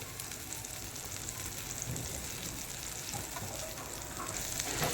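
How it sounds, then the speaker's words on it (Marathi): Ground spice paste for a mixed Bhogi vegetable dish roasting in oil on the stove, giving a steady, dense sizzle with faint stirring scrapes that grows slightly louder toward the end, with no talking. "ह्या वाटणाला छान तेल सुटेपर्यंत भाजून घ्यायचं"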